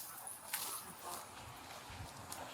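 During an outdoor police search in the woods, a puppy gives a few short high whimpers and yips, fairly faint against a hissy background.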